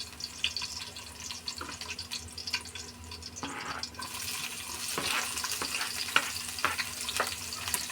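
Garlic and onions fry in a pan with a quiet, crackling sizzle that grows fuller and louder midway, dotted with sharp spatula taps and scrapes.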